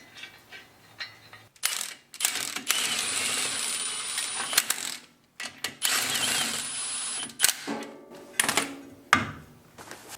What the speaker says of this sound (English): then you're going to put two lug nuts back on and tighten them down.